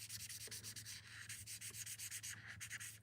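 Coloured pencil shading on paper: a quiet, close, rhythmic scratchy rubbing in fast back-and-forth strokes, continuing steadily with no talking.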